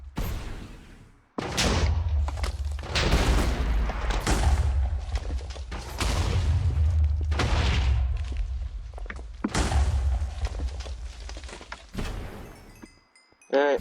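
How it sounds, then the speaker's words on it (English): Repeated muffled grenade blasts thump in a Minecraft TechGun mod zombie fight, several heavy booms a few seconds apart with rumbling tails, while someone talks between them. "Those grenades don't go very far."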